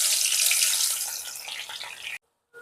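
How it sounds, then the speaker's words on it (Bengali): Chopped onions go into smoking-hot oil for a spicy mutton curry, setting off a loud, bright hiss that slowly eases before cutting off, then a brief faint sizzle returns. "এবার আমি এই কেটে রাখা পেঁয়াজগুলো তেলের মধ্যে"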